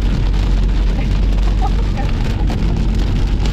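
Heavy rain in the Arizona desert drums steadily on a surface nearby, a dense constant patter with a low rumble underneath and faint voices in the background.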